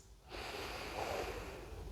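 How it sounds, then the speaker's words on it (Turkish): A single long, steady intake of breath through the nose during a yoga session for special-needs children and their mothers, close and fairly soft, with no talking. "Birlikte burundan nefes alıyoruz."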